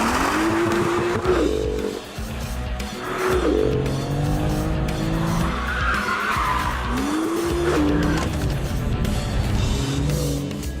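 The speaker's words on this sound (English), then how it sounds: "The BMW M2." BMW M2 lapping a race track at speed, its engine roaring steadily while the tires squeal loudly in long skidding bursts through the corners, close and continuous.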